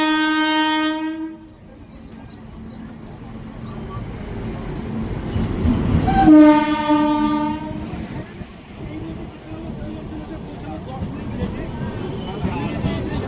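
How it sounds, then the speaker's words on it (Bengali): The 13125 Kolkata–Sairang Express pulls into platform 2 at Kolkata, sounding two loud, sustained horn blasts over the rumble of rolling carriages while someone talks nearby. "তো ঢুকে পড়েছে কলকাতা সাইরাং এক্সপ্রেস 13125"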